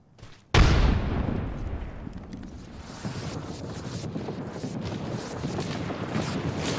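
A frag grenade in the video game Apex Legends bursts with a sudden loud boom, then a long rumbling tail with scattered crackles and distant gunfire-like pops continuing after it.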